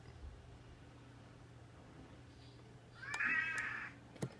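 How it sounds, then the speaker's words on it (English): A cat gives a single short meow partway through, fairly close against a quiet room hum, followed by a brief faint click. "so the cat interrupted me"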